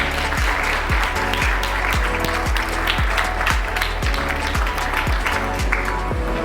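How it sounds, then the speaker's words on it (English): An audience applauds steadily with dense clapping, alongside a run of regular, evenly spaced thumping beats. "Give her a big round of applause."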